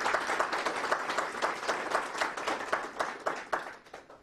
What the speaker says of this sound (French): j'aimerais vous dire d'applaudir très fort